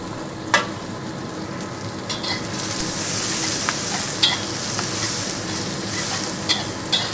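Chili sizzling and being stirred with tempeh in a hot pan for sweet-spicy orek tempe, a loud close steady frying hiss punctuated by occasional scrapes and clinks of the spatula; no talking.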